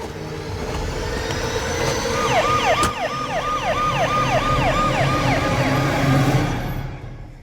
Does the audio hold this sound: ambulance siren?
yes